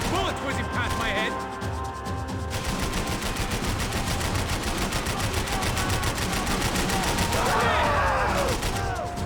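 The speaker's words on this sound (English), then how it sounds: "I can't concentrate with bullets whizzing past my head!" Dense, continuous gunfire in a Max Payne 3 shootout, a relentless fusillade of overlapping shots and bullets whizzing past, loud and close throughout, with voices faintly mixed into the chaos.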